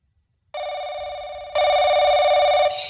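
A telephone bell rings loudly and steadily with no pauses, growing louder partway through, with no voices over it.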